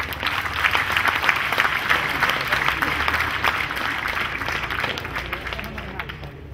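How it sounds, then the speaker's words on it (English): Sustained, fairly loud applause from a seated convocation audience at a Himachal Pradesh university, many hands clapping in a thick continuous patter that holds steady and then eases off slightly near the end. "Please clap louder."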